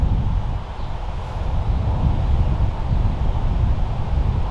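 Heavy wind buffeting a microphone outdoors on a disc golf course, a constant loud low rumble that fills the whole stretch with no other sounds above it.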